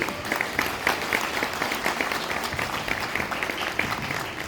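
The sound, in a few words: audience applause welcoming a speaker on stage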